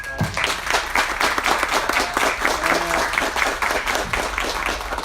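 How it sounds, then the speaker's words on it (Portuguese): Crowd applause at an agricultural expo talk on insect management and biotechnology, a sustained round of many people clapping, loud and continuous for several seconds. "uma salva de palmas aqui"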